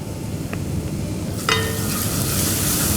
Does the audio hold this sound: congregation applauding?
no